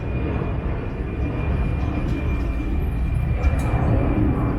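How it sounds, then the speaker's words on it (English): An airplane flies overhead with a loud, steady low roar that fills the whole stretch without fading, and no one speaks over it. "so let me just wait for that airplane."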